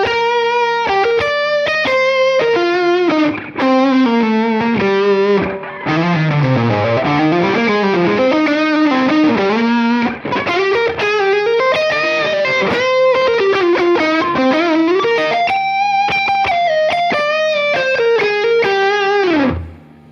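Heavily distorted electric guitar through a custom Lovepedal Box of Awesome pedal, playing a continuous run of sliding, bending notes and chords, loud and saturated, with brief breaks between phrases.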